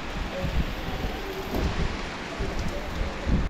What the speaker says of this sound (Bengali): এখনো গুড়ি গুড়ি বৃষ্টি পড়ে